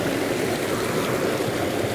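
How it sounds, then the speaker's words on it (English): A clean, ice-cold mountain stream rushes steadily over rocks nearby, a continuous full-bodied wash of flowing water with no voices. "sit by a mountain stream, which is absolutely clean."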